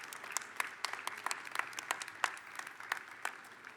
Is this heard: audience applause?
yes